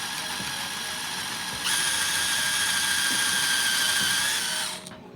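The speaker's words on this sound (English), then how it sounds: "I grab the correct size drill bit and I can start to drill the actual hole" A power drill bores a hole in wood with a steady, high whirring drone that steps up in pitch partway through and then winds down at the end, with no talk.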